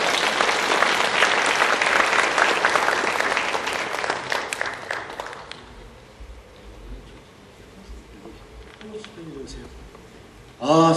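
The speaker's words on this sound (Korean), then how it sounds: "우리 나오실 때 우리 격려 박수 한번 해주시죠" Church congregation applauding in encouragement during a Sunday service, dense clapping for about five seconds that fades out, followed by quiet room tone and then a voice speaking.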